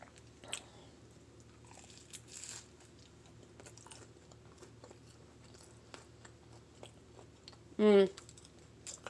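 Someone bites into and chews a low-carb bagel made with xanthan gum and egg, producing faint, close crunching and mouth sounds with soft clicks, then a brief voiced sound near the end.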